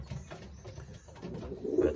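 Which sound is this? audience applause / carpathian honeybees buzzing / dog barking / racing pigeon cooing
racing pigeon cooing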